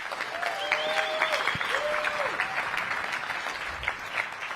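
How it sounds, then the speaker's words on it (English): Steady audience applause at a San Francisco tech summit, a dense wash of clapping that holds evenly throughout, with a few faint whistles threaded through it. "a huge round of applause for all of our speakers"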